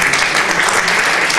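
Steady, dense audience applause at a mushaira poetry gathering, loud and even throughout with no voices over it.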